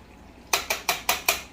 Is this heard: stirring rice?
yes